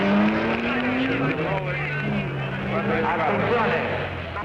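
Racing engines at the 1953 Mille Miglia, a Ferrari among them, roar past with a falling pitch, loud and close, while someone narrates over the noise.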